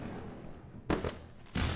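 Fireworks sound effect marking a win during a live trading stream giveaway: two quick bursts of crackling booms a moment apart, fairly faint, with no talk over them.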